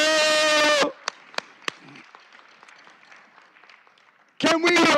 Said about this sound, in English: Can we hear another round of applause for our tenure recipients?